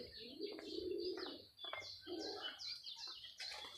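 Pigeons cooing on a farm with goats and country chickens, soft low coos mixed with brief chirps of other birds, fairly close but quiet, with no talk.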